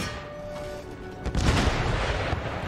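A cannon in the Empire Total War battle fires at troops: one deep, loud boom bursts in after a quieter opening of battlefield ambience, then rolls on into a noisy rumbling tail.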